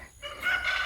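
Chickens on a grassy garden plot, with a rooster crowing loud and close, a strained, drawn-out crow rising after a brief quiet moment.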